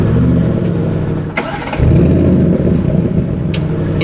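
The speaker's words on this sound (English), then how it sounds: "start the car up and we can hear how it sounds coming into life with this V8" An Audi RS7 Sportback V8 engine cranks briefly and fires into life, then settles into a loud, deep, steady burbling idle up close.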